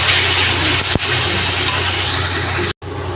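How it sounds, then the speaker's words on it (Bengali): Tomato paste and spices frying hard in a pan, a loud dense continuous sizzle with stirring, briefly cut off near the end. "এবার দিয়ে দেব টমেটো বাটা, দিয়ে ভালো করে মশলাটা কষিয়ে নেব"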